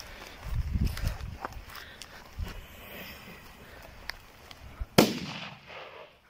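An FS3 firecracker goes off under a small box with a single loud, sharp bang near the end. It follows several seconds of shuffling footsteps and rustling outdoors.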